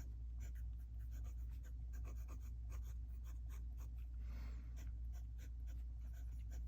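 Fountain pen, an Opus 88 Demonstrator inked in blue, writing on paper, faint close scratchy strokes in short irregular bursts over a low steady hum.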